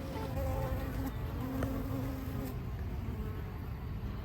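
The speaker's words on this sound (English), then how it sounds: "bees have gotten a little bit testy. There's one swarming around my head right now" Honeybees buzz around a beehive on a homestead, a steady, fairly faint insect drone with a few bees passing close and a hum hanging in the air throughout.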